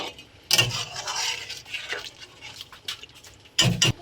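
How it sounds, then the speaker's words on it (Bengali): Water is poured into a pot of gati kochu (taro) curry, giving a soft, fairly quiet splashing rush that tapers off, with sharp clanks of a utensil against the pot at the start and end. "জল দিয়ে দিচ্ছি"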